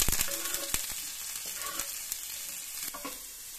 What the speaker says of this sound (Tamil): எல்லாத்தையும் நல்லா பச்சை வாசனை போக வதக்கிக்கணும்